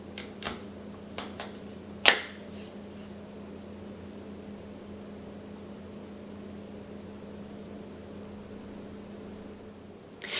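A knife splits a yucca root lengthwise with a single sharp crack, preceded by a few faint taps, then only a steady low kitchen hum.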